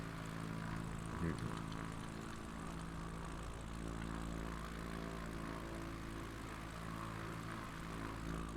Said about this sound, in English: this plane is awesome, by the way